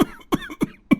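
A person coughing in a smoky, poor household during a cold winter, four sharp, close coughs in quick succession, evenly spaced and fairly loud.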